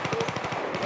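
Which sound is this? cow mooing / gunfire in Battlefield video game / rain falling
gunfire in Battlefield video game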